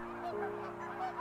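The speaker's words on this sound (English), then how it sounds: "These are calls used in flight, hence the name." A bird's flight call sounds as short, nasal honking notes repeated over a steady drone, moderately close.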